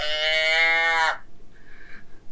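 A handheld deer call device imitating a doe or fawn sounds one loud, nasal bleat lasting about a second, followed by a fainter, shorter echo-like bleat.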